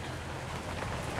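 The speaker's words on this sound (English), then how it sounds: "It's raining outside." Rain falls outside in a steady dense hiss, a constant even wash of drops on surfaces filling the short stretch with no voices.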